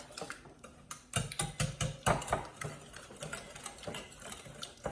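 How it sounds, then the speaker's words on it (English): A wire whisk beats eggs in a bowl with rapid, close, rhythmic clicking and rattling taps that run in quick bursts with brief pauses. "I'm going to use a wire whisk to beat them all up."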